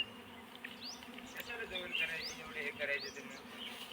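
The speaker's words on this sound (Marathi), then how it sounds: "माशा वगैरे पण बसल्यात आहे बघा इथे" Wild honeybees swarm around an exposed wild honeycomb in the Konkan countryside near Ratnagiri, a continuous close buzzing hum with faint bird chirps in the background.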